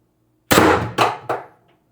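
A Pistelle X-68 CO2 pistol with a punctured, failing CO2 cartridge fires 9.9 gram riot balls: three sharp, close cracks, each with a short metallic ring, the shots coming quickly and the last one weaker.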